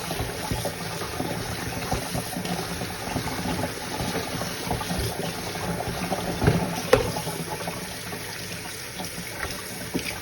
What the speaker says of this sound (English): It drains the water, the excess water off in the dirt and the starches.